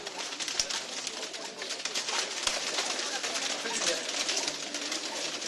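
Racing pigeons with electronic rings coo softly amid a busy loft during clocking, their calls mixed into a constant noisy background with people talking.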